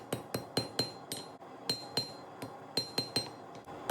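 Hammer forging the tang of a Puukko knife made from a lawnmower blade, with sharp ringing metallic strikes in an uneven rhythm, often in quick pairs or triplets, about fifteen blows, close and loud.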